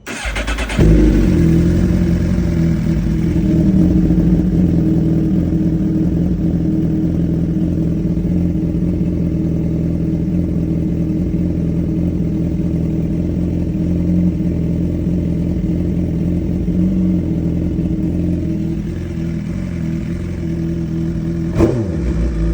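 A 2025 Suzuki GSX-R1000R motorcycle engine cranks and fires up close by, then runs loud and steady with a deep, continuous drone and slight shifts in revs for about twenty seconds.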